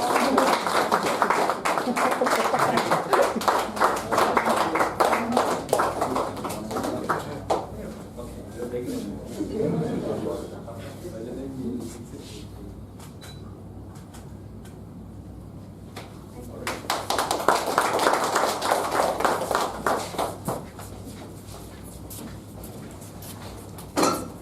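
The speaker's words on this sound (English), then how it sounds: "So, big round of applause for them." Applause from the audience at a club meeting comes in two bursts, a round of clapping at the start and another swell later, with talk and quieter room noise in between.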